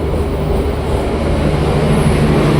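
Inside a KA Lokal Merak local passenger train with economy carriages, a loud steady rumble and rattle of the carriage rolling along the rails, continuous and close, without talk.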